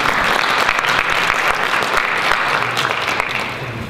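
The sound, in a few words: audience applause at a meeting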